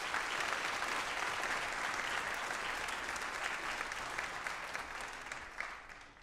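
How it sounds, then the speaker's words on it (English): Applause for two guest artists at a high school winter band concert, a full, even spread of clapping from a large audience that sounds fairly distant and fades slightly toward the end. "One more round of applause for the two of them, please."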